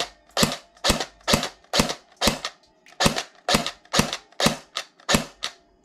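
An airsoft FN P90 fires in semi-auto bursts of sharp, snappy shots after a motor swap, about a dozen evenly spaced cracks with gearbox whir under each, close and loud with no talking.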